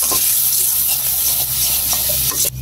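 Freshly caught river prawns fry in hot oil, a loud continuous sizzle and hiss close by with a low steady hum underneath and no talking.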